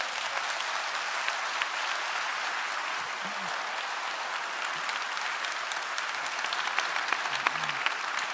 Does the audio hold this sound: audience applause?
yes